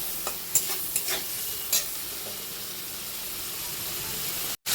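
Prawns seasoned with turmeric and salt fry lightly in a pan, a steady sizzle broken by several scraping stirs of a spatula, close and alone without speech.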